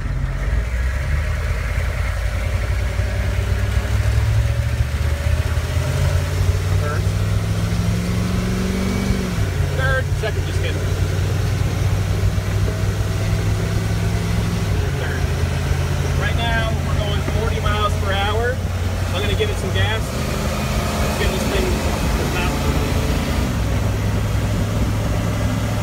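A 1992 AM General Humvee engine runs steadily at idle, a loud, close low rumble that shifts pitch a few times as it revs slightly, with faint mechanical clicks and rattles on top and no talking.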